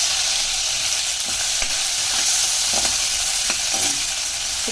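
Raw peanuts roast in a dry pan for brinjal bharta, giving a dense steady sizzling hiss with occasional soft stirring clicks and scrapes, close and continuous, no voices.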